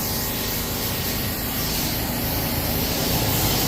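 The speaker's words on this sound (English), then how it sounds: "Now we're gonna spray it off" Continuous loud hiss of water spraying at close range as a car is rinsed, steady and unbroken, with no voices.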